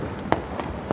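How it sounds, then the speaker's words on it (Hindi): Diwali firecrackers in Una pop and crack in a few sharp bursts against a rumbling, echoing background of distant explosions. "ज्यों ज्यों अंधेरा होने लगा है त्यों त्यों पटाखों का से पूरा आसमान गूंजने लगा है"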